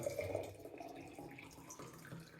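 Lukewarm water is poured for watering orchids, giving a soft, close trickle and splash that runs continuously and quietly, with no voices.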